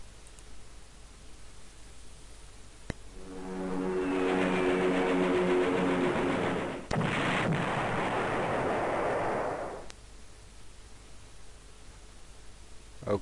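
An anti-tank gun in the Panzer General strategy game lets out a loud, sustained roaring blast with a sharp crack in the middle, then drops back to a quiet hum.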